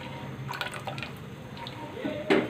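Flour-and-water paste stirred into simmering beef nihari gravy, giving soft wet drips and squishy liquid stirring close by, with a brief louder splash near the end.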